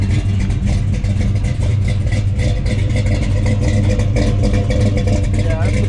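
A 1970 Plymouth Superbird clone with a 528 Hemi and Hurst shifter rumbles steadily, a deep loud engine note close by, with a voice talking over it.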